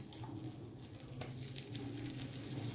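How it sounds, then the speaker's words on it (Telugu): Ginger garlic paste frying in a pan for paneer butter masala crackles with a soft, steady sizzle and occasional stirring scrapes, fairly quiet and free of speech. "అల్లం వెల్లుల్లి పేస్ట్ పచ్చివాసన పోయేంత వరకు వేయించుకోవాలి"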